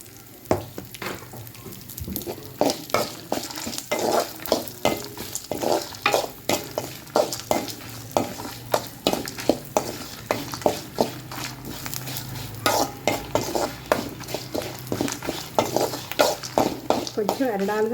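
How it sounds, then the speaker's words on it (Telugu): Lentils fry with asafoetida in a pan for carrot pachadi, a continuous sizzle broken by regular scraping strokes of a spoon stirring against the metal, close and steady throughout. "వాసన వచ్చేంత వరకు ఫ్రై చేసుకుందాం."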